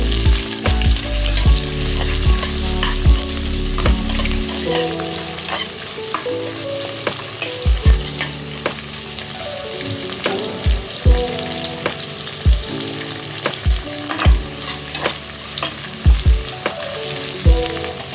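Finely sliced onions fry in hot oil until golden brown with a loud, continuous sizzle, punctuated by regular scraping and knocking of a spatula against the pan, close up and with no voices.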